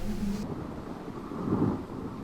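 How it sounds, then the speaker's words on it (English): Heavy monsoon rain pours with a low thunder-like rumble, a dull continuous roar with a swelling surge midway and some wind buffeting. "My God, see the rain is heavily falling."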